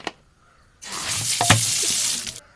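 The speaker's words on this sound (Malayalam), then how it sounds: "നമ്മൾ ഇതിനകത്ത് വെള്ളം നിറയ്ക്കാൻ പോവാണ്." Running tap water pours steadily into a container for about two seconds after a brief knock, a broad rushing hiss with splashy bursts.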